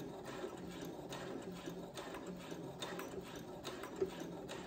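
Brother sewing machine stitching, a steady rapid mechanical whirr with regular needle clicks, fairly quiet and close, running continuously without talk.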